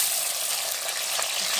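Raisins sizzle in hot oil as they are stirred, a short, even, close frying hiss with no break.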